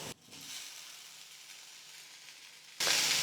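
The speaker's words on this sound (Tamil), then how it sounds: "வெங்காயம் நல்லா வதங்கினதுக்கப்புறமா இது கூடவே வேக வச்சு எடுத்து வச்சுருக்கிற எல்லா காய்கறிகளையும் சேர்த்துக்கிறேன்." Boiled vegetables added to sautéed onions sizzle and fry in a pan, with a soft continuous hiss that swells into a loud, close burst of sizzling at the end.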